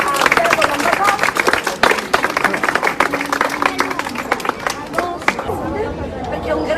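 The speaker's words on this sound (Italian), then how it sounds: "Un applauso allora a Piero Lamberto" Audience applause for a professional tennis player at a local news event, a dense crackle of clapping with crowd chatter mixed in, tapering off toward the end while voices continue.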